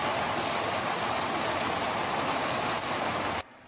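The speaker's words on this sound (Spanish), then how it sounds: "una intensa lluvia acompañada de una granizada" Torrential rain mixed with hail pours down onto streets and plazas, a dense, loud and steady roar with no gaps that cuts off abruptly near the end.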